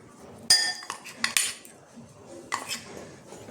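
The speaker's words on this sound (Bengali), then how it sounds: "এটা একটু মিশিয়ে নেবো ভালো করে।" Utensil scraping and clinking against a bowl while flour and cornflour are stirred together for momo dough, a few sharp clatters standing out over quieter rubbing, close and with no talk.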